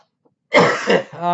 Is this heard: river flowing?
no